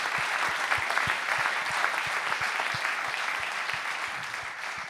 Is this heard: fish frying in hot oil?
no